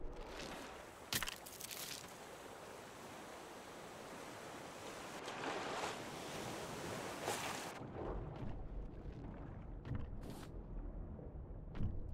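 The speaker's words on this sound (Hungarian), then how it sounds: "Mint hullámzik a tenger becsülettel." Ocean waves in the survival game Raft wash in a steady, broad surge with gusty wind, swelling and easing over several seconds, with a few sharper splashes and no talk.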